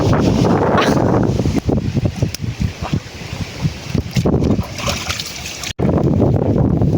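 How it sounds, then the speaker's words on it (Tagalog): Strong typhoon wind roars and gusts loudly and unevenly, rising and falling in waves, with brief rustling and knocking sounds mixed in. "My God, grabe yung haguros ng hangin."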